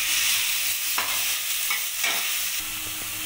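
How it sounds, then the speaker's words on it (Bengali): Onion paste being stirred in a hot wok, with a continuous loud sizzle and a few scraping strokes of the spoon. "এটাকে আমি ভালো করে কড়াইয়ে নাড়িয়ে চাড়িয়ে নেব।"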